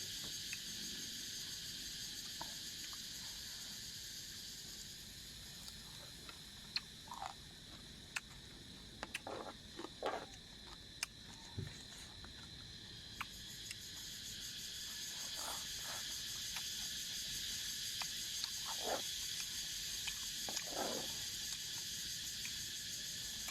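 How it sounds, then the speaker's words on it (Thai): A steady, dense high-pitched drone of cicadas fills the background continuously, with scattered faint croaks and clicks from nearby creatures. "ได้เสียงจักจั่น"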